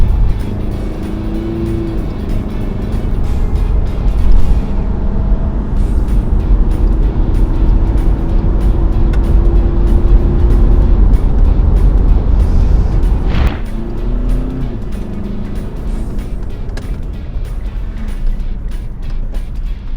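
Remapped Mitsubishi Pajero SUV engine accelerating hard, a loud sustained drone rising in pitch through the gears, with a brief drop at a shift partway through and steady road rumble underneath.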